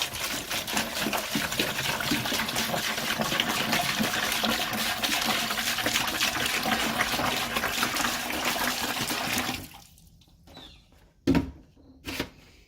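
Warm water pours steadily from a jug into a bucket, a continuous close splashing gush that stops abruptly near the end, followed by a couple of small knocks and drips.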